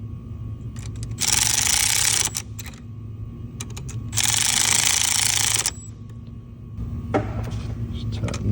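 Bolts on the EGR valve of a 2007–2022 Mercedes Sprinter OM642 V6 diesel engine are run down with a power tool. Two sustained, loud, buzzing bursts of about a second each play over a steady low workshop hum.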